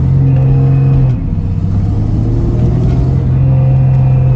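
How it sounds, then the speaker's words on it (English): A car engine idles with a steady low rumble and a buzzing, rattling metallic resonance from a loose exhaust heat shield throughout, loud and close. "My exhaust is rattling because I got a heat shield loose in it."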